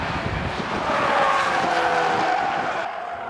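A pack of Mazda MX-5 race cars sweeps through Paddock Hill Bend at Brands Hatch, their engines a close, loud roar with tyres squealing and skidding. The cars pass by over about three seconds, and no one speaks.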